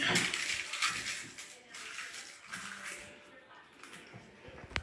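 A kitchen knife blade is rinsed under running tap water, producing a close splashing stream with faint clinks. The sound is fairly quiet, and a voice speaks over it.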